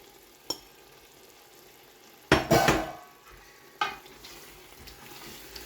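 Spoon stirring an okra and mutton stew in a pot, a faint clink followed by one louder scraping stir and another short scrape, close and without any talking.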